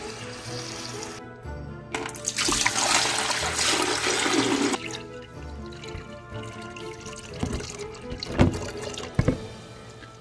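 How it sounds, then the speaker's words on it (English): Water pours from a container into a portable countertop nugget ice maker, a splashing, gurgling rush that builds for a few seconds and then eases into trickles and a few sharp drips and plastic knocks. "I'm gonna fill this up, and then I'll just simply take this over and fill up the entire ice maker."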